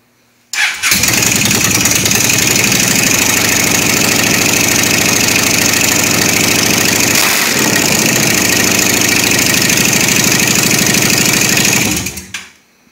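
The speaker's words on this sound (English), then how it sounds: "How's that for a cold start? Such a good sounding bike." A motorcycle engine fires up and settles into a steady, loud idle close by, running evenly for about eleven seconds before cutting off.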